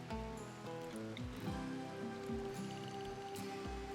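Rain falls in The Rim of Time video game, a steady soft patter of drops on surfaces under faint game tones, quiet and continuous throughout.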